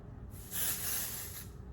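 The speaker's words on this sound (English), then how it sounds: "you're gonna go in with your texturizing spray and just pull up your hair" A single spray of texturizing hair spray hisses close by for about a second, steady and bright, then cuts off.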